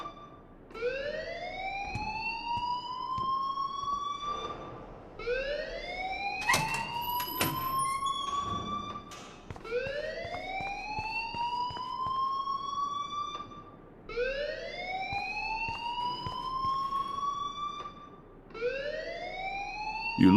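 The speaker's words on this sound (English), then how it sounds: "please turn off that alarm since that's your job" An alarm rings in Life Is Strange, a repeating rising electronic whoop that cycles about every four to five seconds, loud and steady, with a few clattering background sounds in between.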